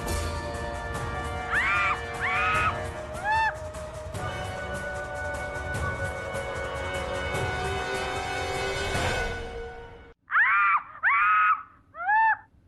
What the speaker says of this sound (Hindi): चीखने की आवाज तुम्हारे मोबाइल से कैसे आ रही है?